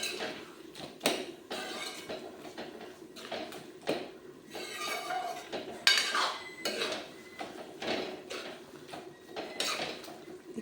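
Bottle gourd being stir-fried with turmeric in a pan, with a utensil scraping and clinking against the metal pan in irregular bursts at close range and no talk.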